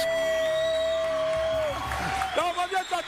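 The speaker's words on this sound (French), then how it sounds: "on va applaudir s'il vous plaît pour Koloko Germain" Audience at a live show applauding and cheering for performer Koloko Germain; a sustained tone and voices give way to bursts of crowd noise and whoops toward the end.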